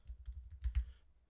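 A quick run of soft keyboard keystrokes, about half a dozen clicks in rapid succession, close up and quiet.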